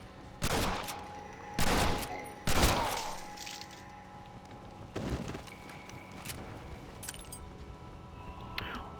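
Shotgun blasts from the video game Red Dead Redemption: three loud booming shots close together in the first few seconds, then fainter shots trailing off amid game ambience.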